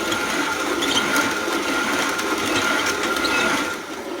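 A Sunshine Nugget grain mill grinds hard red wheat into flour with a steady, close, whirring mechanical drone that stays even throughout and eases off slightly at the very end.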